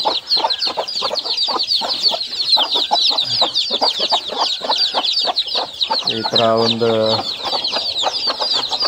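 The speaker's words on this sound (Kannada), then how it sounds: "ಯಾಕೆ ನಮ್ಮ ಒಂದು ಕೋಳಿಗಳು ಕೋಲ್ಡಿಗೆ ತಡಿತಾ ಇಲ್ಲ ಏನೋ ಗೊತ್ತಿಲ್ಲ." Country chickens on a poultry farm cluck steadily and close by, with one bird giving a longer, louder rising call in the middle. Someone speaks briefly over the flock.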